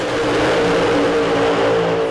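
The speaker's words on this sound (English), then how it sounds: "The first time that you hear the engines roaring, it's like something you never heard before." Race car engines roaring at Talladega, a loud, sustained droning blare of engines passing, continuous and dense with no talk.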